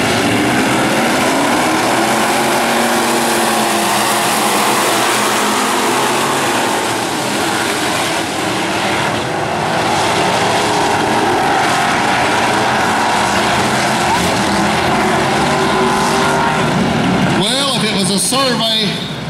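Renegade main event race cars, the 26 car among them, roar around the track in a loud, sustained engine drone that rises and falls as they pass, with announcers talking over it throughout.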